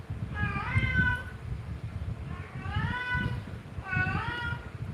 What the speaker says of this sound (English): What do you want, cat? What? Meow, meow, meow, meow.